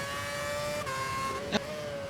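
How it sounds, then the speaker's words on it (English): Steady high engine whine from an F1 car in the F1 2011 racing game, held at high revs with a pitch dip near the middle and a brief sharp crackle near the end, continuous and fairly loud. "It almost sounds like you're running off throttle blowing with the way you're over revving your engine."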